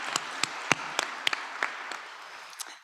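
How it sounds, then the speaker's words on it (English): An audience at a winter graduation recognition ceremony applauds in a large room, a steady wash of many hands clapping with a few sharper nearby claps standing out, fading slightly toward the end. "Let's give one more round of applause to Elizabeth and Michaela."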